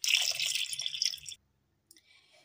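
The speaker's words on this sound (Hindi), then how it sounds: "अब हम इसमें डालेंगे पानी।" Water is poured into a pressure cooker holding beef and small potato pieces, a steady splashing pour for over a second before it cuts off, followed by faint small clinks.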